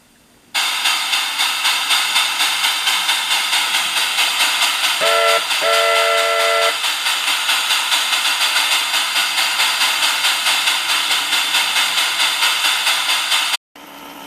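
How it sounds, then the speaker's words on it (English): An N scale model steam locomotive runs with a loud, steady rhythmic chuffing hiss, and a short steam whistle blows twice about midway, before the sound cuts off abruptly near the end. "And now to demonstrate a steam locomotive, so you'll know that sound."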